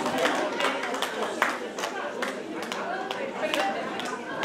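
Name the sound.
audience clapping at folklore concert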